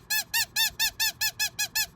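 A squeaker postcard with pinups squeaks nine times in a steady, even rhythm, close up, loud and clear, with no talk over it.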